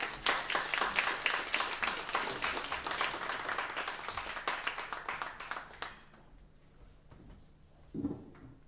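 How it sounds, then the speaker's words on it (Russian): Audience applause at a concert by a brass band, a brisk crowd clapping of many hands that runs steadily for about six seconds and then stops abruptly, leaving a quiet room with a soft thump near the end. "аплодисменты."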